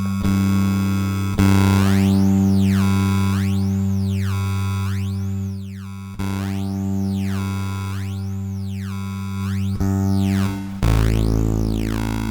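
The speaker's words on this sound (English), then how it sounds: "now I've programmed modulation, which is a sine wave LFO, to affect the bit crushing parameter" A bass guitar runs through a ghost pedal whose bit crusher is swept by a sine-wave LFO, producing loud repeating rising-and-falling whooshing sweeps over a sustained low note, re-struck a few times, with no voices.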